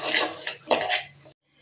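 Roasted moong dal is washed by hand in water in a kitchen vessel, with a loud, steady splashing and sloshing that stops abruptly near the end.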